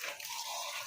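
Water running from a tap into a basin at home, a brief steady rushing splash heard fairly close.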